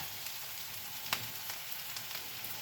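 Brussels sprouts sizzle steadily in butter in a pan, a close, even hiss of frying with faint small crackles and one brief sharper pop, nobody talking.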